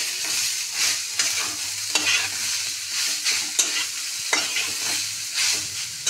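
Halwa ingredients being fried and stirred in a pan, with a continuous sizzle and repeated scraping strokes of a spoon at an irregular rhythm, close and fairly loud with no talking.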